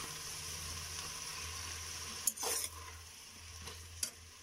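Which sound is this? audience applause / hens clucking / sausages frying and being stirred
sausages frying and being stirred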